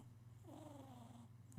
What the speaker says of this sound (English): Are you going to full purr?